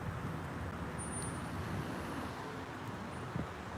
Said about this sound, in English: I hear an engine sound right when the whitey drives in front of me.